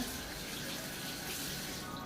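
A steady, soft rush of water runs from a tap, even and continuous throughout.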